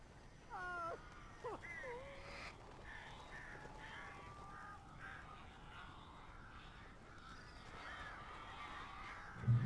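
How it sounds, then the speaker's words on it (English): Crows in the horror video game Alan Wake give a few harsh, scattered caws early on, faint over a steady noisy background, with a brief thump at the end. "These birds are weird."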